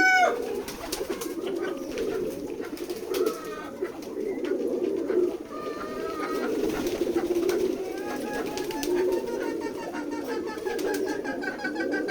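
A flock of pigeons on a pigeon farm coos continuously at close range, layered soft throaty calls overlapping throughout, with occasional wing flutters.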